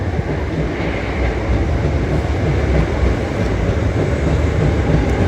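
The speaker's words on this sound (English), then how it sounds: "Off goes our 375 bound for Ramsgate via Canterbury West." A Class 375 electric multiple unit pulls out of London Bridge station bound for Ramsgate, a loud continuous low rumble of wheels and motors rolling steadily past nearby.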